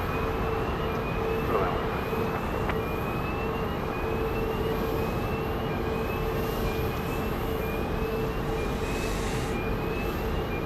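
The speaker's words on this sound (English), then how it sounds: "Flight 1660 from Baltimore, Washington International Airport, and another MAX 8." A Boeing 737 MAX 8 jet, Flight 1660 from Baltimore, arriving at Dallas Love Field, a steady loud broad engine roar with a thin whine held throughout, no voices over it.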